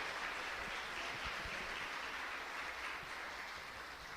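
An audience claps for a visiting nun at a religious talk, a steady, even wash of applause that carries on without pause, moderately distant and fairly quiet.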